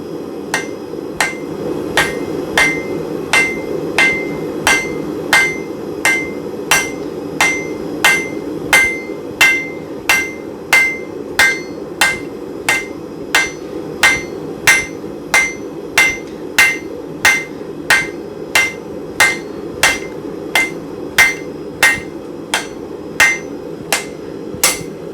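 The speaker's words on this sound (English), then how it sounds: "definitely gonna take this over to the edge of the anvil" A hammer forges a square nail on the edge of an anvil, ringing with bright metallic blows at a steady, even pace of about forty strikes, close and loud throughout.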